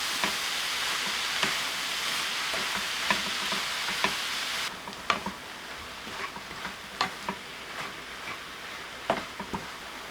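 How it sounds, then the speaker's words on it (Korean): Chili peppers and green onion stir-fry in a hot pan with a steady, soft sizzle. Scattered clicks and scrapes of stirring come through, and the sizzle grows quieter about halfway through. "고추, 파 넣어 2분 볶아주세요."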